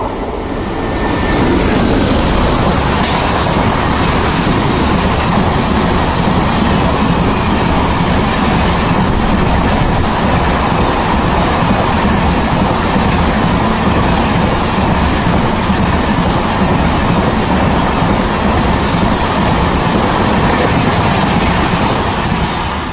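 An express passenger train rumbles past steadily and loudly for a long stretch, a continuous roar of wheels and carriages close by, in Tamil Nadu, India.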